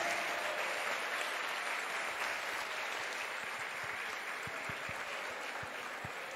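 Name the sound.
audience applause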